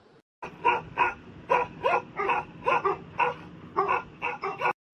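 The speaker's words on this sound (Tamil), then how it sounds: "என்ன இந்த நாய் கண்டினியூஸா குடைச்சிக்கிட்டு இருக்கு" A village dog barks continuously in the open near a cremation ground, about a dozen loud, evenly spaced barks in a steady rhythm with no talk over them.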